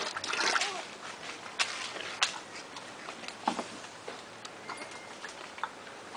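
Water splashes and sloshes in irregular bursts in a pig pen, a few sharper slaps standing out over a soft, continuous wash nearby.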